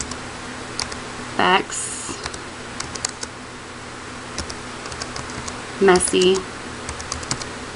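Someone types a title on a computer keyboard, with scattered light key clicks in short uneven bursts, close by, while a voice briefly speaks over it twice.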